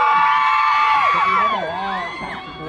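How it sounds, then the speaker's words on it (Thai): A crowd screaming at a Thai fan event, high shrill screams and whoops from many voices overlapping continuously, loud and close. "ใครมองไม่เห็นกรี๊ดออกมาฮะ"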